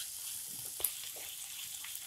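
Ginger garlic paste frying with chopped onion for a bean sabzi, a steady quiet sizzle with a small clink near the middle and no voices.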